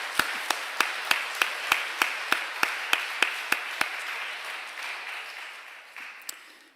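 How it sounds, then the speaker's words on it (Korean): A church congregation claps in a steady, even rhythm to welcome a newcomer, about fifteen sharp claps spaced roughly a third of a second apart. The claps fade into a low murmur of room noise, with one last clap near the end. "우리 박수로 한번 환영하겠습니다."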